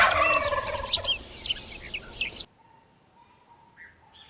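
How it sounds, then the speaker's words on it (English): A turkey gobbles in a loud, rapid rattling burst for about two and a half seconds, then cuts off, leaving faint high bird chirps and a thin tone. "Turkey."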